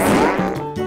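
A voice imitates a tiger's fart with a short, loud, buzzing raspberry that sputters into a few wobbling blats, brief and close.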